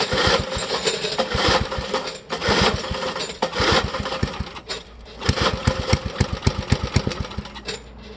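A vintage Parker thatcher engine sputters into life and runs with a rough, rapid chugging beat, loud and close, faltering briefly before picking up again into steady firing.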